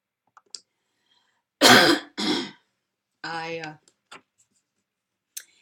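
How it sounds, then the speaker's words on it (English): Two harsh, close coughs in quick succession during a Jewish evening (Ma'ariv) service, followed by a throat-clearing rasp and a few faint clicks in an otherwise quiet room. "I am going to have a coughing fit."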